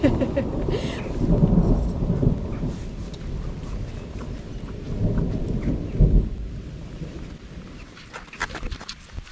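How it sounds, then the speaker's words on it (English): A thunderstorm with rain over a garden: low rolling thunder rumbles beneath a steady wash of rainfall, with a sharper crack around the middle and some brief thuds near the end. "looking at hearing the thunderstorm and checking that there was no lightning"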